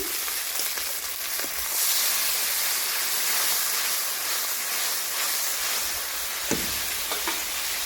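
Ground spice paste and water go into a pan of frying crab curry with oil, giving a steady loud sizzle and hiss that swells and then settles, with a few faint clinks and stirring sounds near the end.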